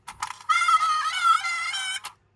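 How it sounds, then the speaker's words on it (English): Wailing siren from a vintage 1973 Palitoy Z Cars talking police car toy, a Triumph 2500, sounding as one thin electronic tone for about a second and a half, close and fairly quiet. "That's the siren again."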